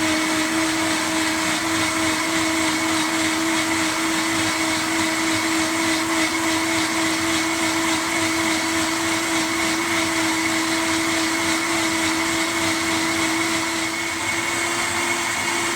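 A loud, steady roar of a high-power Vitamix 7500 blender blending carrot soup runs without pause, whirring and grinding on with a constant high-pitched motor whine.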